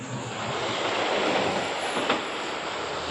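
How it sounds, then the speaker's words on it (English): A truck drives past on Henderson Drive in Innisfail, Australia, with a loud, steady, broad rumble that holds for the whole stretch and swells slightly near the middle. "This truck go past and do its thing."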